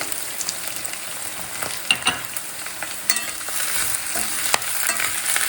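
Curry leaves and chopped green chillies frying in a pan with cumin and onion for tomato gojju: a continuous close sizzle with repeated spatula clatters and scrapes, no voices.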